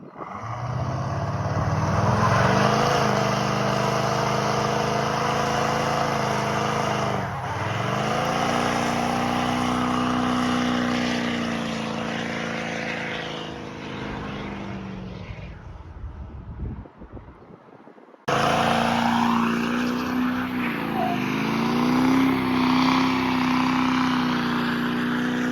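A truck does burnouts on old worn tires, its engine roaring at sustained high revs with rising and falling pitch and wind buffeting the microphone, a brief near-silent drop before the loud roar resumes.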